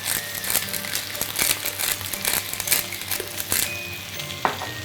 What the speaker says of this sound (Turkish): Tavaya patlıcanı da alıyorum ve kavurmaya devam ediyorum.